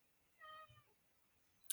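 A single faint cat meow, a short harmonic cry from a cat pestering to go in and out in the morning, rising briefly from quiet room tone with a small click at the end.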